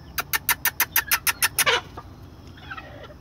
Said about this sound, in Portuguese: Forte, um galo forte.